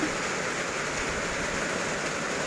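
Morning rain falling in a rural Thai setting, a steady even hiss of broadband patter throughout with no pauses or voices.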